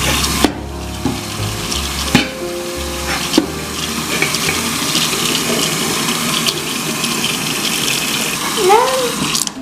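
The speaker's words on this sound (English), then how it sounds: "So let's just drain our spaghetti." Cooked spaghetti is drained into a kitchen sink as loud, steady water pours and splashes close by, with a few clunks of the pot over the continuous rush.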